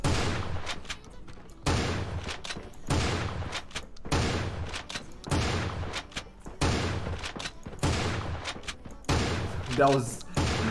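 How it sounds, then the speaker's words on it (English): A gray pump shotgun fires in the video game Creative Destruction: about eight loud, booming blasts in a steady rhythm, each roughly a second and a half apart, with game ambience between them. "They were like 2 blank shots. Showed me that I shot the guy but didn't get any damage."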